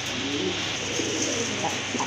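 Pigeons kept for sale coo in low, throaty, rolling calls, close and continuous, with no voices over them.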